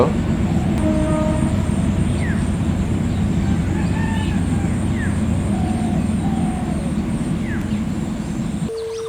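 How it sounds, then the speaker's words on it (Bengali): A train passing in front of a rural village house in Bangladesh, a steady broad rumble with faint birdsong chirps above it, fading slightly toward the end. "দেখুন আবার বাড়ির সামনে ট্রেন যাচ্ছে"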